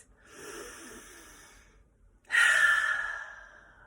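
A long, deep calming breath during a children's yoga story session: a soft, drawn-out inhale, a brief pause, then a louder, breathy exhale, close and alone.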